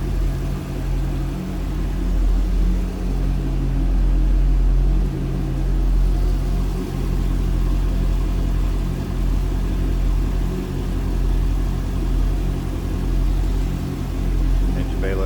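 A 2010 Chevrolet Corvette Grand Sport's 6.2-liter LS3 V8 idles steadily up close, a deep continuous rumble with low throb and no revving.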